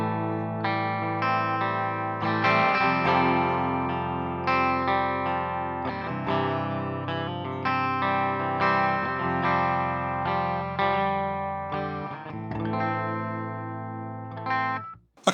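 A Harley Benton electric guitar on its bridge pickup with distortion plays a steady run of sustained, overdriven chords and notes, moderately loud and close, ending abruptly with no talking.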